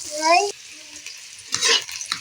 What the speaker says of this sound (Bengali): পেঁয়াজটা দিয়ে দেব পেঁয়াজটা পুরো লাল মতো হবে ততক্ষণ আমি নাড়তে থাকবো